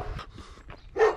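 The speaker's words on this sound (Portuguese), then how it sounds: "toda vez que eu ligo a câmera vem um cachorro querendo me morder" A large dog on a walk gives a short, sharp bark after a few softer yips and shuffling sounds.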